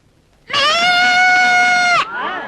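A goat gives one long, loud, close bleat lasting over a second, sounding like a drawn-out human cry, then trails off into a fainter after-sound.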